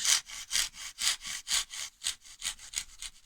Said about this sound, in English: Now taking our tenon saw, you'll see I'm using my thumb as a wee stop